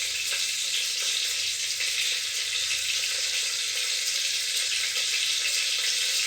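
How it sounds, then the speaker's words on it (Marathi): Mustard seeds sizzle in a little hot oil in a pan, a steady bright hiss with faint crackle and popping running unbroken throughout, close and with no talk. "थोडंसं तेल गरम झाल्यावर याच्यात आपण मोहरी टाकू."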